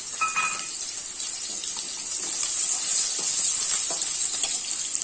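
Mango pieces frying in hot oil with mustard seeds, a steady bright sizzle close by with faint stirring and a few crackles, no voices.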